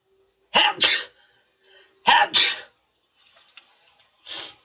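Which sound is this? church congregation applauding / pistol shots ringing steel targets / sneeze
sneeze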